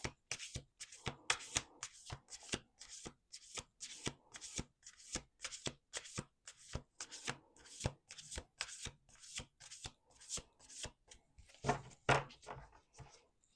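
Playing cards are shuffled again and again close by, a rapid series of crisp riffles and taps in a steady rhythm.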